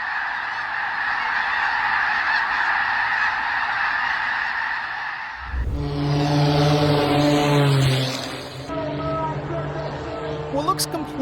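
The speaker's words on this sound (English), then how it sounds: "This incredible cloud of birds is part of the annual snow goose migration." A vast flock of snow geese on spring migration honks in a dense, overlapping chorus, loud and close. A propeller aircraft drones and roars through the middle of the flock's calls.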